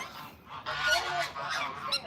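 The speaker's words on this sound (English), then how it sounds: "All right, geese." Geese at an animal sanctuary honking, several loud nasal calls overlapping in a short noisy burst, close by.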